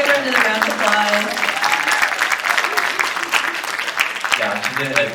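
An audience at a youth church gathering with adoration applauds in a loud, dense, continuous round of clapping that lasts about five seconds, with a voice briefly audible at the start and again near the end.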